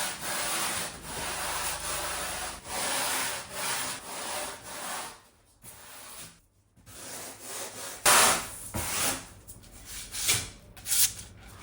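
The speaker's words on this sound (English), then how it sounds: "remove all the lumps, staying clear of the line, and then fare it with long continuous strokes" Long rasping strokes of a hand plane or rasp fair the rail of a hollow wooden surfboard, a steady series of loud, close scraping passes with short gaps between strokes.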